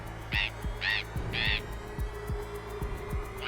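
A parrot gives three short, bright squawks in steady succession near the start, over a low background of repeated soft knocks and hum.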